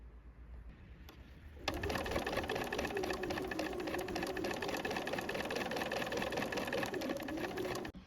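Sewing machine topstitching a folded skirt hem on a dress with a long stitch length, starting after a click and running as a steady fast whir for several seconds before stopping.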